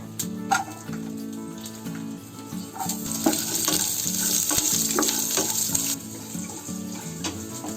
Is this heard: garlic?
yes